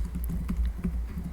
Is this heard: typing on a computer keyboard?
yes